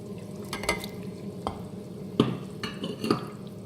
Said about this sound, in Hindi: प्याज़ों को सौते होते हुए 5 मिनट गुजर चुके हैं। ये तकरीबन सौते हो चुके हैं, सॉफ्ट हो गए हैं।